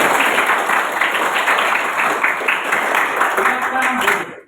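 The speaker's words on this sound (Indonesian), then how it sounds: "Oke, tepuk tangan kita semua." A classroom of participants clapping together at a teacher's request, a dense, fairly close burst of many hands that keeps an even level before stopping abruptly at the end.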